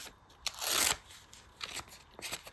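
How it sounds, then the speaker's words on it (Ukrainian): A small paper packet crinkles and tears open up close, followed by a few soft rustles and crackles in a quiet room. "Відкриваємо пакетик."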